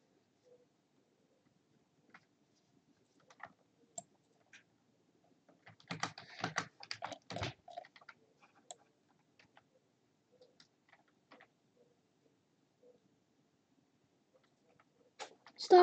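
Rapid clicking in a video game, sparse faint taps, then a dense flurry of fast clicks in the middle before thinning out again, ending with a louder knock.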